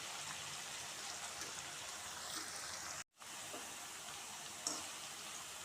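Kerala style bitter gourd fry sizzles softly in a pan while being stirred, a quiet, even, rain-like hiss that runs throughout with one brief gap.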